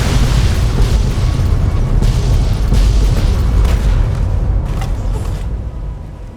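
A heavy explosion in the video game Fallout: New Vegas Lonesome Road, a loud sustained blast and rumble with debris bursts that slowly fade near the end.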